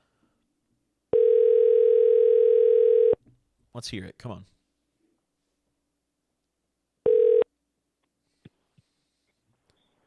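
A telephone ringback tone sounds for about two seconds, a voice speaks briefly, then a shorter second ring follows, with faint clicks after.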